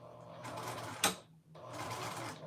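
Sewing machine stitching a 3/8-inch dress seam, a close rapid mechanical whir in two runs split by a brief stop, with a quiet voice faintly underneath.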